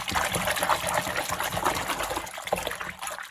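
Water pours steadily into a basin to wash freshly picked cat's ear greens with vegetable wash, a close, continuous splashing trickle that runs the whole time.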